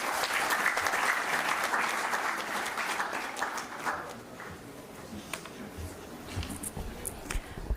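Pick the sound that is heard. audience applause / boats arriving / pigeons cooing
audience applause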